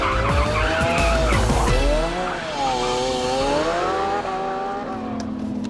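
Lamborghini Aventador spinning donuts, tires skidding and squealing loudly and continuously over a roaring engine, with wavering pitch as the car circles close by.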